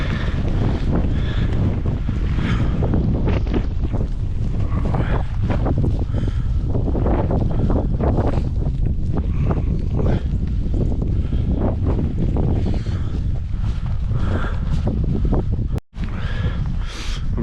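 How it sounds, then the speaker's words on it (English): Brutal, freezing easterly wind batters the microphone on open hillside along the Calderdale Way, a loud continuous roaring rumble with gusty surges and no clear talking. "There's just a brutal easterly wind, absolutely freezing."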